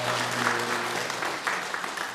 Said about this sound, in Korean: 좀 이따 박수 한번 같이 쳐야 되겠는데